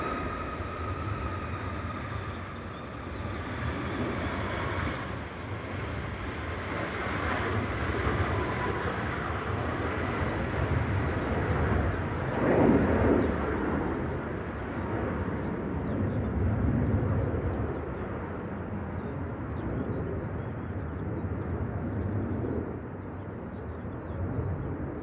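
A TUI Boeing 737 MAX 8 takes off from gusty Manchester Airport, its engines making a broad, steady roar that swells in the middle and then fades slowly, with wind noise throughout and no voices.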